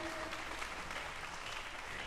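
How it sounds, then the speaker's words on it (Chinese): Audience applause at a Chinese orchestra concert, with steady dense clapping filling the hall throughout, moderately loud and without pauses. "再次掌声"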